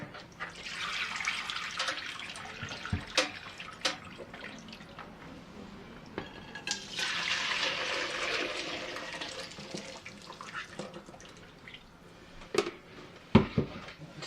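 Chicken broth poured from one pot into another, a sustained close splashing and gurgling pour that swells and fades with a few clanks of the pot, no talking.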